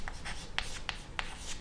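A pen scratches across paper while a class 10 polynomial math problem is worked out, with short close strokes and a few light, sharp taps, no voices.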